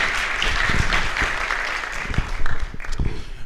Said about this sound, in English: can we just have a big round of applause